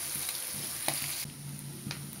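Half a cup of chopped onions fries quietly in a pan, giving a soft, even sizzle with a couple of light stirring clicks.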